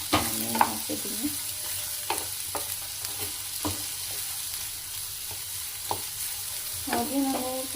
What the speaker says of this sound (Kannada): ಫ್ಲೇಮ್ ಮೀಡಿಯಮ್ ಫ್ಲೇಮಲ್ಲಿ ಇಟ್ಕೊಂಡು ಮಾಡ್ಕೊಳ್ಳಿ. ಆನಿಯನ್ ಹಾಕಿದ್ದೀನಿ.